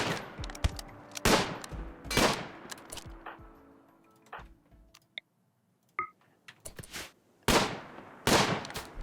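Gunfire from a firefight in RimWorld, with colonists under attack: sharp, loud shots come in irregular bursts with brief gaps, and softer clicks and ticks sound between volleys.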